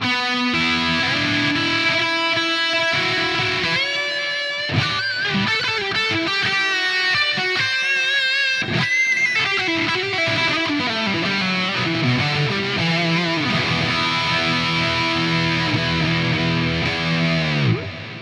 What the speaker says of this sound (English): Again, I'm using a digital delay.